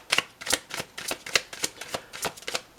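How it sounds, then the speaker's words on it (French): A deck of playing cards is shuffled face down, giving a quick run of crisp riffling flicks in an uneven rhythm. The cards are close and fairly quiet, with no speech. "si je prends le jeu et je le mets à l'envers et je fais un mélange aussi"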